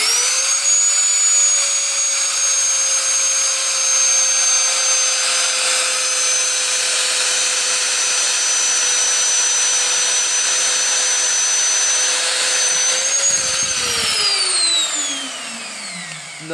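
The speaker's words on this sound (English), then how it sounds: "basically is like a high-powered high-speed steel hole saw, which machines out the outer diameter of the hole and then pushes a slug out" A high-speed steel annular cutter bores through steel, a loud, steady high-pitched motor whine with a piercing tonal drone that holds for over ten seconds, then wavers and winds down as the cut breaks through.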